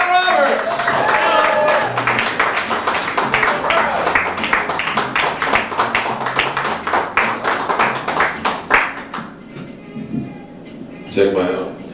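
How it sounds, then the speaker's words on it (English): Studio audience at a 1991 variety talk show applauds and claps in a loud, dense burst that thins into scattered individual claps before stopping. Brief talk follows near the end. "Please give a big rebel-rousing round of applause for Mr. John Roberts."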